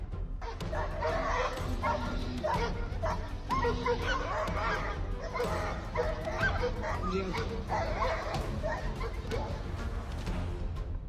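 Aggressive dogs barking frantically at a mother polar bear and her cubs that strayed into a human settlement, loud and dense yapping mixed with honk-like calls in a continuous noisy commotion.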